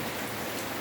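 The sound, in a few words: rain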